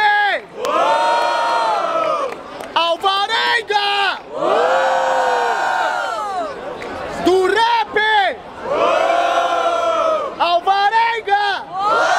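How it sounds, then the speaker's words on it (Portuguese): Crowd at a rap battle in Barueri, São Paulo, cheering and chanting loudly in long sustained waves of shouting voices, broken by brief pauses, close and dense throughout. "Barulho para as rimas do Dureba"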